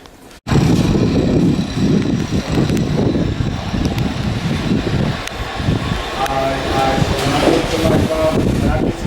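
An NYC subway train on the Rockaway Line rumbles and roars loud and close, with rattling wheels and wind buffeting over the steady noise.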